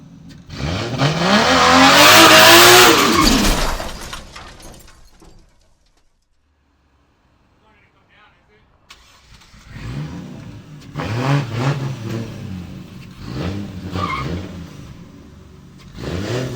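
A car does a second-gear burnout in a driveway: the engine revs hard and rises into a loud screaming peak, drops to near silence, then returns in several shorter rev bursts, close and alone without talk.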